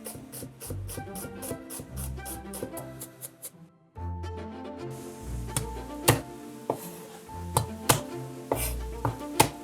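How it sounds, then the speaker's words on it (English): A knife finely chopping onions on a board taps out rapid, even strikes, followed after a brief pause by slower, irregular cuts, all under background music. "we're going to prepare the base, a nice fine chopped onions"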